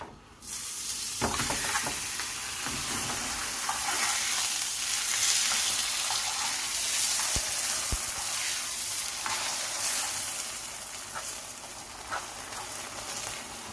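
Methi paratha fries in butter on a pan with a steady, close sizzle that holds throughout, with a few faint clicks of handling on top.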